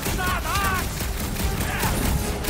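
Friendly gunfire in the Guardians of the Galaxy video game on PS5, a dense, continuous burst of weapon fire and effects with game voices woven through.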